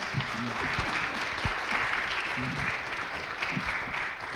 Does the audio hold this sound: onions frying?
no